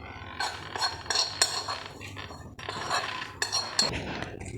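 A spoon stirs fried shallots into a bowl of curd mixture, giving repeated clinks and scrapes against the bowl in an uneven rhythm, close and fairly loud, with no voices.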